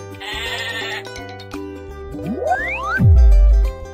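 A goat gives a short, low bleat near the end, following a rising springy sound effect over bouncy children's music.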